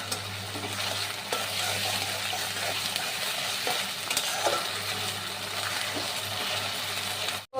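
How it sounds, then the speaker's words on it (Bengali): Onions with ginger garlic paste stir-fry in a pan, a continuous close sizzle with occasional scraping strokes of a spatula, ending abruptly. "পেঁয়াজটা ভালো করে নেড়ে নিতে হবে। আর এবারে দিয়ে দেব আদা রসুনের পেস্ট।"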